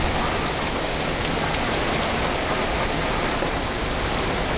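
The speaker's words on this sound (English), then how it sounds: "Can't believe how hard it's raining." Heavy rain pouring down during a thunderstorm, a dense, steady roar of drops on surfaces, loud and continuous with no talk.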